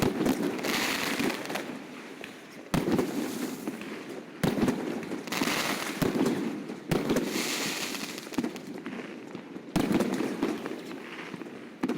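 New Year's night fireworks and salutes over Yakutsk, a series of loud sharp bursts every couple of seconds, each followed by crackling and rumbling that fills the gaps, heard from a distance with no talk.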